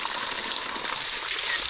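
Cold natural spring water gushes and splashes steadily at a Philippine bathing spot, a continuous bright rushing wash heard close up with no voices.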